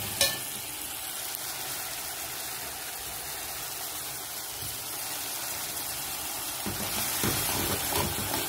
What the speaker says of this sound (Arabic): طبعا هنسكر البصل شويه ونحط عليه الكبد